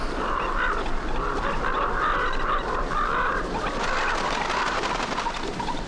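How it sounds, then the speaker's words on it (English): Crows caw in the soundtrack of a music video, a chorus of harsh, repeated bird calls overlapping steadily over a dense background mix. "Oh, shit. Crows?"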